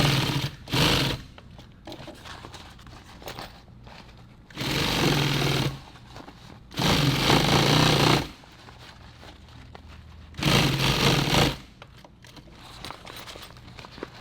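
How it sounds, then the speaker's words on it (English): A sewing machine stitches a nylon pouch in several bursts, each fast buzzing run lasting a second or two before stopping, with quieter handling gaps between the loud stretches. "Sew this sucker in"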